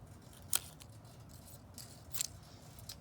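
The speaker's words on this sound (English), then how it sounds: "Then we're going to take one of our yellow strips and cut it into thirds." Scissors cut a yellow paper quilling strip into thirds, giving two crisp, quiet snips about a second and a half apart in a hushed room.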